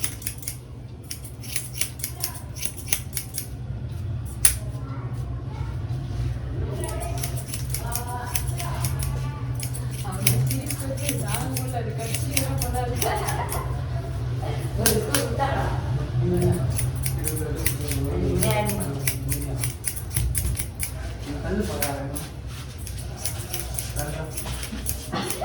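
Scissors snip steadily through hair during a haircut, a rapid run of crisp close cuts that continues throughout while someone talks over the work.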